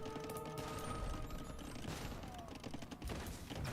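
Faint, dense volleys of gunfire crackle and rattle from a strategy video game battle as monks are shot down. The shots blur into a continuous background clatter with no voices.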